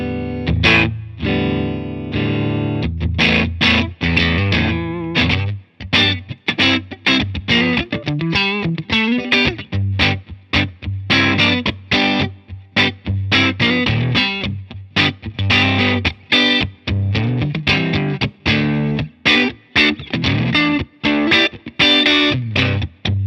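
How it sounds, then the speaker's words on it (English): A Supro Keeley Custom 12 guitar amplifier turned up loud with heavy distortion, playing strummed chords and riffs in bursts with sharp attacks and ringing sustain, no voices. "Let's crank it up a little bit."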